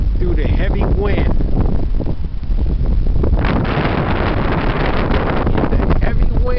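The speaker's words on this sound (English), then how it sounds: "Cutting through the Spartan trail in the heavy wind." Heavy wind roars and buffets the microphone continuously while riding along the Spartan trail, loud and close, with a voice talking over the gusts.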